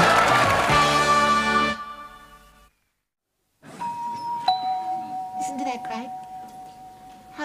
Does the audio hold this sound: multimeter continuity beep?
no